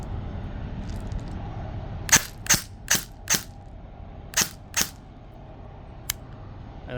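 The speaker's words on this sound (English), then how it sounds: "a single shot" An airsoft DSG gun of original sci-fi design fires six crisp single shots, four in quick even succession and then two more after a pause, with a faint click near the end.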